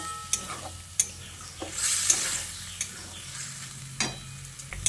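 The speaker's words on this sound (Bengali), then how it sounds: "তারপর ভালো করে নেড়েচেড়ে মিশিয়ে নিচ্ছি" Marinated soybean chunks being stirred and fried in a pan, with a soft sizzle and repeated scraping knocks of a spoon against the pan at irregular intervals, close by and moderately loud, no voices.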